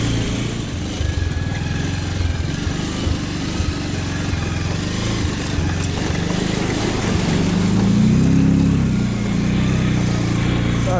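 A motorbike with water inside its silencer runs on a mountain road near Dhorpatan Hunting Reserve, Nepal, its engine giving a steady, loud, rough drone close by with a slight swell in pitch toward the end and no talk.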